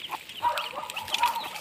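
A hen on a farm clucks close by in a short run of soft, quick clucks, with no talking.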